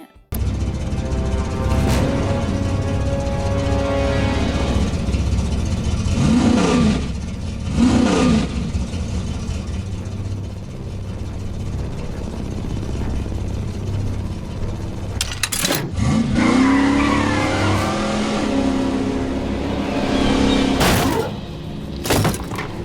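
Animated car engine revving hard, then the car running someone over: a loud, sustained engine roar with surges, plus short bursts of impact and clatter, alone without talk.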